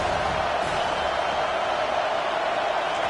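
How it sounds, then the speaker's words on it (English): A football stadium crowd roars on third down, a dense, steady wall of cheering and noise filling the space without a break. "Decibels rising as the crowd gets behind this defense on 3rd down."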